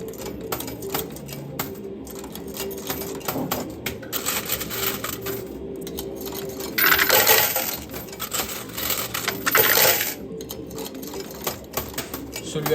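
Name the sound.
coin pusher arcade machine with coins dropping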